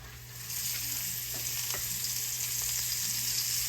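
Flour-dusted stuffed pork chop, filled with cornbread dressing, searing in hot oil in a pan: a steady, loud, close sizzle that swells after the first half-second and holds evenly, with no one talking.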